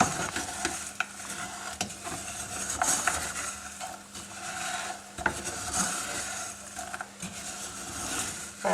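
A spoon stirs melting sugar in a saucepan for homemade pink pralines, producing a continuous scraping, sticky swishing with soft rhythmic strokes and occasional light clinks against the pan, close and steady.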